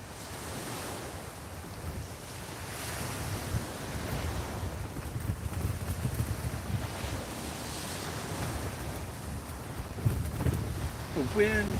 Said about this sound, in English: we got 30-mile-an-hour gusting winds here tonight